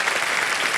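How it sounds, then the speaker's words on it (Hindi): Studio audience applause on a televised quiz show set, a steady dense clapping that fills the short moment at full loudness. "तालियां बज जाए इनके लिए"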